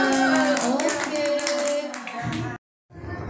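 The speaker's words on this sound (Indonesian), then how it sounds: "Tepuk tangan dong untuk Fatih dari B3" Clapping from an audience at a kindergarten recitation exam, a dense run of hand claps for a child that fades toward the end and cuts off briefly.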